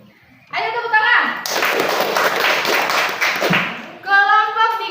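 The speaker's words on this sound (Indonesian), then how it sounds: "Ayo tepuk tangan." A classroom of schoolchildren claps loudly and rapidly for about three seconds, close and energetic, between stretches of a teacher talking.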